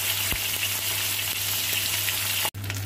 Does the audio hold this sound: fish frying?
yes